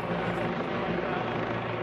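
A police helicopter flies over a snowy search area, its rotor a steady, dense drone that holds without a break throughout.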